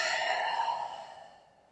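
A person exhales slowly through the nose and mouth during a yoga flow, one long soft breath that fades out, close and alone.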